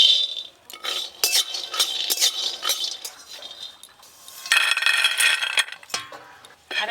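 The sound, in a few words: peanuts being fried in a pan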